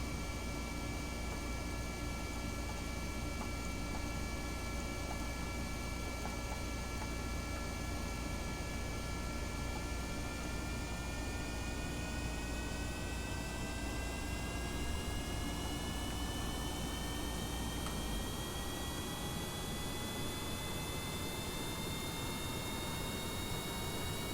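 Steady whirring hum of a spinning engine or rotor in Kerbal Space Program, with tones that slowly glide upward as it turns, a constant droning mechanical sound with a low rumble dropping out near the end.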